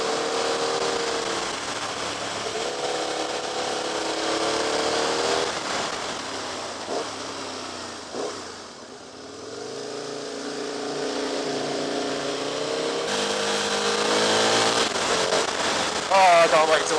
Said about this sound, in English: I'm still not used to riding a V-twin.